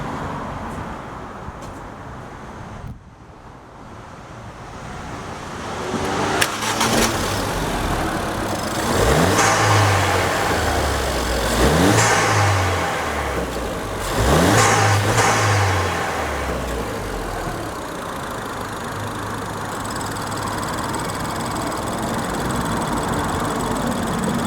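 Ford Fiesta ST fitted with a Peron Stage 1+ air intake: engine idling, then blipped through several sharp rising revs and falls before settling back to a steady idle, loud and close with no talking.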